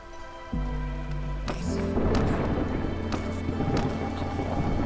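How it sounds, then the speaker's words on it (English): A rainstorm in the video game Don't Starve sets in as a steady hiss of rain with low rumbling thunder, growing fuller and louder after a few seconds and layered over a droning music tone. "Oh no, it's storm time."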